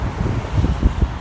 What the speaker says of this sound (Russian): Что за ветер здесь?